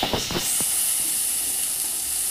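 Shukto vegetables steaming in a covered pot as the lid comes off, a few metallic clinks followed by a loud, steady hiss and sizzle of cooking steam up close.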